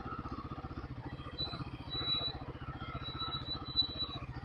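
A Royal Enfield Guerrilla 450 motorcycle being ridden, its engine a steady low, rapid thumping pulse heard close up throughout, with a faint high whine appearing intermittently.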